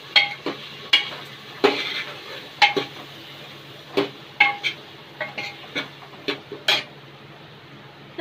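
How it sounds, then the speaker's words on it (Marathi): A spoon stirs red chili powder into oil in a pan for Konkani-style black pea curry, scraping and clinking against the metal in a steady series of sharp taps over a soft sizzle, close by. "मिक्स करून घेऊयात।"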